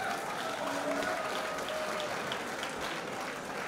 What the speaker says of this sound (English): Put your hands together for Gary Anderson